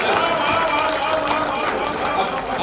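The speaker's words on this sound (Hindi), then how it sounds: "तो ताली जोरदार बजा दीजिए।" Audience at a Hindi stage show at the Golden Mahotsava festival bursts into loud, continuous applause, a dense wash of clapping that fills the whole moment.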